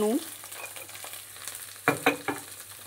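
Okra fries in a pan under a soft, even sizzle, with a few sharp scrapes and knocks of a spatula stirring it near the end.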